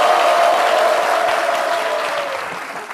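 A studio audience on a talk show bursts into loud, dense clapping that starts strong and slowly tapers off, with a faint steady tone running underneath.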